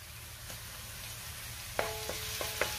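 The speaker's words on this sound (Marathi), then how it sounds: "तेल गरम झाले, त्याच्यामध्ये लसूण घालते." Garlic and ginger hit hot oil in a pan, giving a quiet, steady sizzle with a few soft clinks of a utensil stirring near the end, with no talking.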